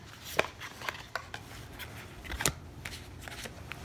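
Tarot cards are shuffled close up in quick, crisp riffles and flicks, with a few sharper slaps as two cards drop out of the deck.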